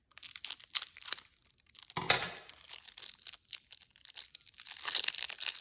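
A tarot card box being cut and torn open, with crinkling plastic wrap and a sharp tearing burst, followed by intermittent rustling and crackling close up.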